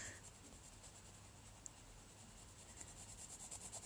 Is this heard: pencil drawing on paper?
yes